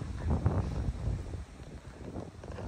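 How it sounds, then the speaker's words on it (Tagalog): Gusty wind buffets the microphone with low rumbling bursts, strongest early on and easing into a steady blustery roar, outdoors in a residential neighborhood in northeast Calgary. "Lakas ng hangin."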